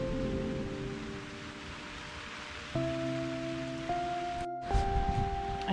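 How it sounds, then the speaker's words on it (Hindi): Steady, soft rain hisses throughout, outdoors under a tree near Toulon, France, with a few sustained mechanical tones rising and shifting above it partway through. "ओ तेरी पड़ गई बारिश।"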